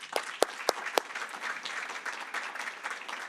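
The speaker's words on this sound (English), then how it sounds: "Can we give them a round of applause?" Audience applause for panelists at a community health event on reducing disparities: a few sharp early claps, then thin, quiet clapping from a small crowd that runs steadily to the end.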